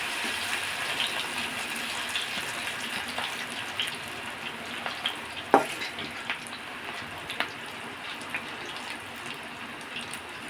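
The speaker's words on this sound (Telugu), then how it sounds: "ఇలా మన ఇంట్లోనే ఈజీగా మంచి ఆయిల్లో వేయించుకొని ఇలా పకోడీలు వేయించుకున్నామంటే" Cauliflower pakodi deep-frying in oil at home, a steady bubbling hiss with occasional louder pops and crackles throughout.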